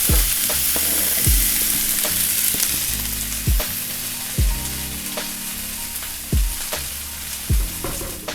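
Green zucchini, yellow squash and mushrooms sizzle loudly on a hibachi grill in a steady hiss, broken by regular sharp clanks of a spatula against the hot metal surface, with no talking.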